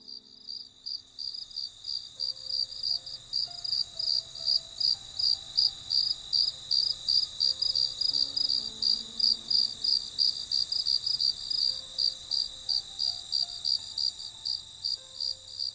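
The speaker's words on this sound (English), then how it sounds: "nature's finest serenade of crickets easing you to sleep" Crickets chirp in a steady, rapid pulsing trill through a Minnesota Northwoods night, the close, even rhythm repeating without pause over faint background calm.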